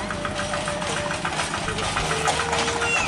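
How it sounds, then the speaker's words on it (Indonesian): A tractor engine runs steadily near rice paddies in a rural village, a continuous close mechanical drone with a knocking, idling character, with faint voices mixed in. "Di sini ada traktor ya."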